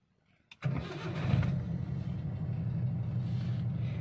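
A 1992 Suzuki Vitara 4x4 with a manual gearbox and racing exhaust cranks briefly, then fires up and settles into a steady, rumbling idle, recorded close with no talking.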